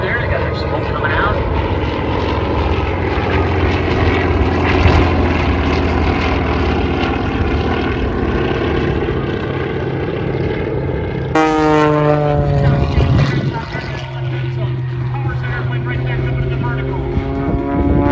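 A propeller aerobatic airplane performing rolls at an airshow makes a steady, droning engine roar throughout, with a rising and falling pitch sweep partway through, and a commentator talks over it.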